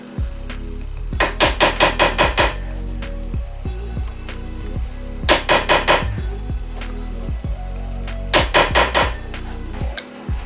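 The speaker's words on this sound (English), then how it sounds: "Alright, so a little punch and a hammer," A hammer striking a small punch against a nut on a Suzuki RF GSX-R motorcycle: three separate bursts of rapid, sharp metallic blows, each a run of about eight close, loud hits, with short pauses between bursts.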